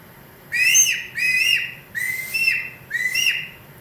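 Four shrill, piercing blasts from a wooden eagle whistle in quick succession, each a short rising-and-falling screech, loud and close.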